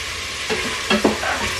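Onion frying in a pan gives a loud, steady close sizzle, broken by a few brief stirring scrapes.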